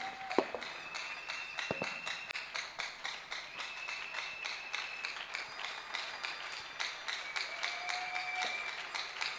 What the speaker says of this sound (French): Aplaudimos ao Rei da Glória.